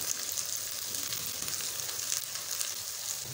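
Ginger garlic paste sizzles as it hits onions frying in a pan for Punjabi daal mash, a steady, dense crackle that holds evenly throughout with no talking.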